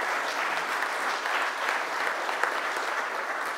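Applause fills the room at a football fair-play trophy ceremony in Alsace, a continuous, even wash of many hands clapping at moderate volume throughout.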